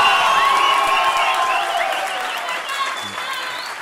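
Loud applause from a stand-up comedy audience mixed with cheering and whoops, gradually easing off toward the end.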